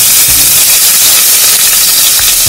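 Onion paste hitting hot oil in a pan for a Bengali fish tikka curry, giving a loud, continuous broadband sizzle that stays dense and steady throughout, close up and with no talking.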